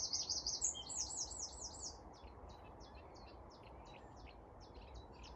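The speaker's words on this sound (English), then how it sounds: "let's listen to those birds" Birds chirping outdoors on a walk, a bright run of rapid repeated chirps up front that soon fades into softer scattered tweets over steady wind and outdoor rumble.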